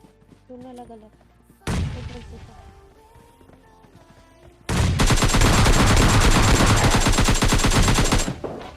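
Video game gunfire from an S12 shotgun and an RPG: a sharp blast, then a dense, loud, sustained burst of rapid shots lasting several seconds before cutting off.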